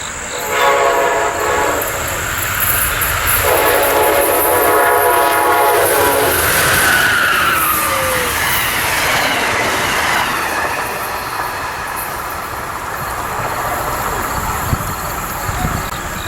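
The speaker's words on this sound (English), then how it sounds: "as she rounds the corner about 95 miles an hour, blowing her beautiful K5 Gen 3" An Amtrak passenger train rounds a curve at about 95 miles an hour, sounding a loud chorded K5 horn in long blasts, then rumbles past with clattering wheels and a brief squeal fading into steady rolling noise.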